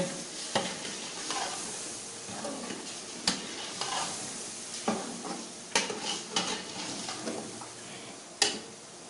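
Chicken frying and being stirred in a pot for chicken pulao, a steady sizzle broken by repeated scraping strokes and occasional sharp clinks of a utensil against the pan, close and moderately loud, with no talking.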